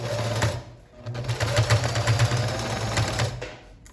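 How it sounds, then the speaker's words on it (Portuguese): Sewing machine stitching and backstitching a bag strap, a steady close mechanical whirr with brief pauses and restarts as the direction changes. "Eu dei um retrocesso porque eu acho melhor para segurar bem a alcinha"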